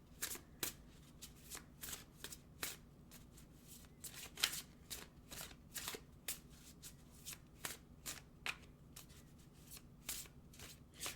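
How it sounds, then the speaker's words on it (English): A deck of oracle cards being shuffled by hand, a steady run of crisp riffling bursts at close range, fairly quiet, with no talking. "Let's get an oracle card."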